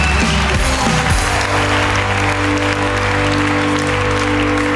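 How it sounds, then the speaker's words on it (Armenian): Audience claps for Satenik at a comedy show, a loud dense burst of applause over steady music that keeps going under the clapping. "եկեք ծափարենք Սաթենիկին"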